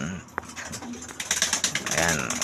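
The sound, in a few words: pigeons cooing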